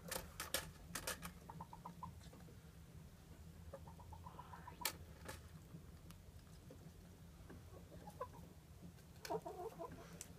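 Chickens clucking inside a henhouse, several short, faint clucks and calls scattered over a low steady hum, distant and quiet.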